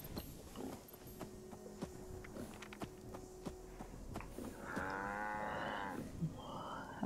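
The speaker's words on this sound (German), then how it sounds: "Hey, Brahmin, Junge. Ich will dich melken." A two-headed Brahmin cow in Fallout 76 gives a long, low moo after some creaking movement and footsteps, fairly close, followed by a shorter second moo.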